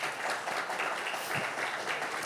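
Steady applause from a church congregation, a dense wash of clapping that holds at an even level throughout.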